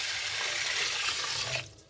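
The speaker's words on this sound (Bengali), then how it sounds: "এবার চালটা ধুয়ে নেব।" Rice being washed in water at home, a continuous splashing, running-water rush at moderate level that fades out near the end.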